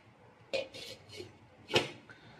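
A lid set onto a pot of mutton curry on the stove: a few sharp metallic clinks and clatters, the loudest near the end, quiet and close.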